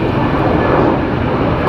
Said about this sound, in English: London Heathrow, the last Neo coming in.